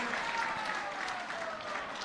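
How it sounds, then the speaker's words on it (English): Applause from the audience at a government performance contracts signing and awards ceremony at a conference centre, a steady dense patter of clapping heard at moderate distance. "Let's give him a big round of applause."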